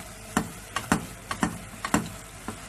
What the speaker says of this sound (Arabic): بقلبه